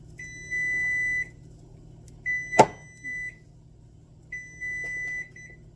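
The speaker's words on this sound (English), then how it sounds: "There goes the timer." A kitchen timer goes off while homemade jello is being made, giving three long, steady electronic beeps with pauses between them and a short clatter of kitchenware in the middle.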